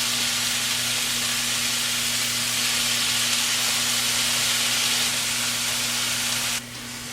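Chicken sizzles in a skillet with olive oil, a loud, dense, continuous frying hiss close up with a steady hum underneath, easing slightly near the end, no talk.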